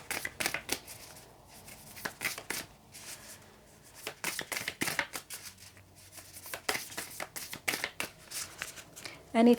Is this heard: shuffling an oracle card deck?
yes